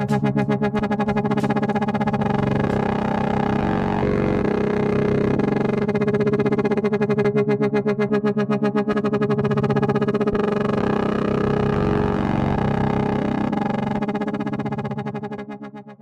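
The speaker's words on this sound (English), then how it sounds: "how you actually do a LFO or wobble effect in Serum" A distorted synth tone made in Serum pulses in a rapid LFO wobble, the sound throbbing on and off steadily for about sixteen seconds before fading at the end.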